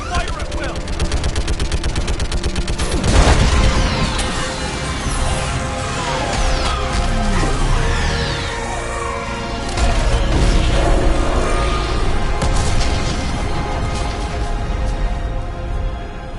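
An orbital strike hammers a live Reaper in Mass Effect 3, a loud, sustained barrage of heavy gunfire, crashing impacts and booming blasts with sweeping streaks, surging in waves over about sixteen seconds while voices speak intermittently.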